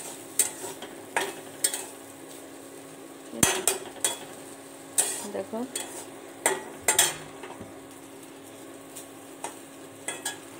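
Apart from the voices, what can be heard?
mourala fish frying in a pan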